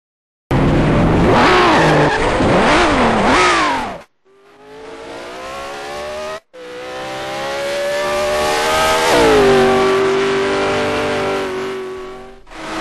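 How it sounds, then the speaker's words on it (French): A race car in the Grand Prix Legends video game, on the 1976 Salzburgring, spins out: a loud, close engine wails with rising and falling revs, then drops out briefly before climbing back to a sustained high drone. "On part en tête à queue."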